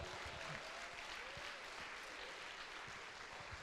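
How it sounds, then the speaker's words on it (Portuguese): A church congregation claps steadily during a sermon, a fairly quiet, continuous patter of applause with individual claps occasionally standing out, no voices on top. "Alguém pode aplaudir a Jesus aqui?"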